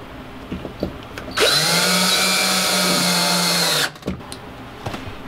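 Power drill driving screws into a mainline side window, one sustained whirring run of about two and a half seconds, loud and close, with a steady motor pitch and faint handling noises before and after.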